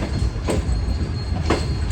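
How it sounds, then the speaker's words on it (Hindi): A passenger train runs through a station loop line, wheels clattering rhythmically over rail joints with periodic louder clacks and faint squeal, heard from inside the moving train with no talk. "जिसके चलते हमारी ट्रेन को वाया लूप क्रॉस करवाया जा रहा है घोटकी रेलवे स्टेशन से।"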